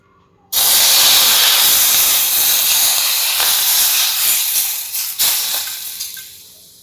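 Hot mustard oil poured over chopped raw onions for a kachi dungli chutney, a loud, close, continuous sizzling hiss that starts abruptly and tapers off unevenly with crackles toward the end, no talking.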